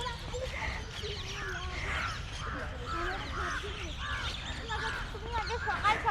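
A flock of crows caws continuously in Lalbagh botanical garden in Bangalore, many overlapping harsh calls near and far over steady outdoor ambience, with people talking underneath.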